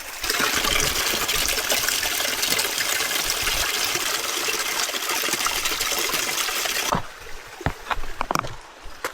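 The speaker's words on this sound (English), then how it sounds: "Crossing these waterfalls here." A loud, steady rush of a waterfall stream in the North Cascades backcountry fills most of the clip, then drops away to quieter splashes and trickles near the end.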